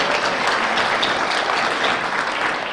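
A round of applause for the organizers of a public planning workshop in Mill Valley, California, steady clapping from a room of attendees, even and sustained without talk.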